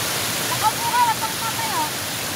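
A river waterfall roars in a steady, loud, broadband rush of falling water, with a faint voice briefly audible beneath it.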